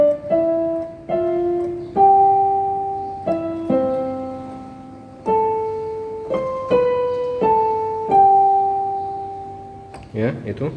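One voice sings a simple melody in unison, a series of sustained held notes, each starting firmly and fading, stepping up and down in pitch, close and clear with a brief breath or word at the end.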